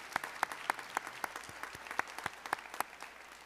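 Faint, sparse clapping at a high school senior honors night: a small number of distinct, fairly regular claps that sound thin and distant rather than a full ovation.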